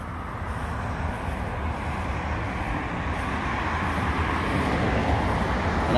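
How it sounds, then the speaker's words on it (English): Road traffic passes beside an abandoned haunted warehouse, a continuous low rumble of cars driving by that swells slightly louder toward the end, with no voices. "I apologize for the road noise."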